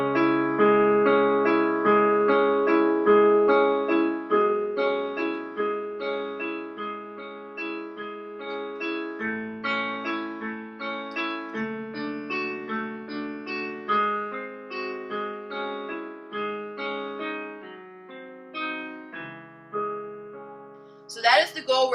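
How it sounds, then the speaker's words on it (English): Solo piano passage with a softer left-hand accompaniment under a louder right-hand melody, played steadily and close for about twenty seconds, ending with a brief noise. "what I can do is I can back off the left hand and bring out the right hand."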